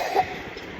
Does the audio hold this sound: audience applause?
no